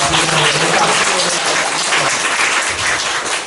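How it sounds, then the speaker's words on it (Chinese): A hall audience applauds with dense, steady clapping that fills the whole stretch at even loudness, with no voices over it. "鼓励，掌声鼓励"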